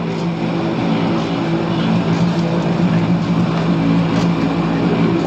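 A mustard oil expeller mill runs steadily and loudly, a dense continuous mechanical drone with a low hum throughout and no breaks.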